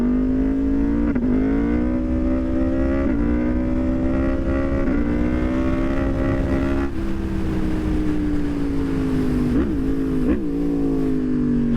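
A Yamaha MT10 motorcycle accelerating hard up through the gears: a loud close engine whose pitch climbs steadily, dipping sharply at each of several quick upshifts, with no talk.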